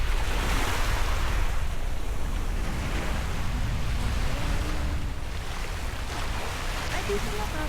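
Sea waves wash onto the beach at White Island, Camiguin, a constant loud surf rush with wind buffeting the microphone and faint voices underneath.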